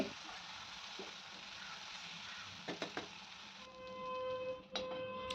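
Stuffed brinjals in masala sizzle faintly in a pan while a spoon stirs, with a few sharp scraping knocks and a soft hiss that shifts partway through.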